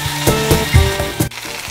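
Chopped vegetables tossed with green chili sauce sizzle in a hot pan for Maggi noodles, with steady frying hiss and a few louder scraping stirs close up.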